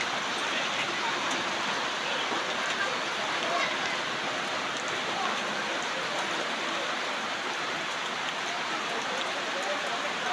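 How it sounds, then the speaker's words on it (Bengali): Heavy midday rain pours down in Mirpur, a dense, steady hiss of downpour on surfaces that stays loud and unbroken throughout, with no pauses or other sounds standing out. "দুপুরবেলায় প্রচুর বৃষ্টি হচ্ছে"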